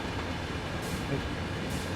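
Diesel trains in the game Train Sim World 5 rumble past, a dense low engine drone and rolling wheel noise that stays loud and steady, with a couple of brighter hissing swells partway through.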